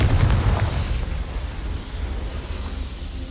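Spell explosion from Confringo in the Hogwarts Legacy video game, a loud booming blast at the start followed by a rumbling, crackling decay that stays dense throughout.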